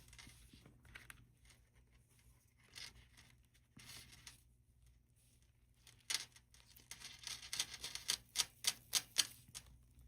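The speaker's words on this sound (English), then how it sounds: "this is where a spatula comes in handy, because you really have to cut this double whipped cream gel into your paint" A spatula cuts double whipped cream gel into paint, making quiet sticky scrapes and clicks that are sparse at first and then become a quick run of sharp ticks near the end. No one speaks.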